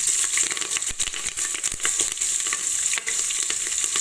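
Onions and green chili frying in a pan with hing and whole spices for a village-style Kathiyawadi vegetable biryani, giving a loud, steady sizzle broken by sharp crackles and stirring clatter.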